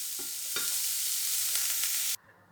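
Spices sautéing in a pan for an aloo samosa filling, a steady close sizzle with a few spoon scrapes while stirring, cutting off abruptly near the end.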